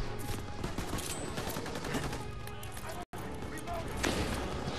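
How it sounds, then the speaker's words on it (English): Scattered gunfire in a Call of Duty WWII farm battle, sharp shots and bursts at mid distance over a busy, dusty combat din, with a voice talking over it. "Who's shooting us from the top?"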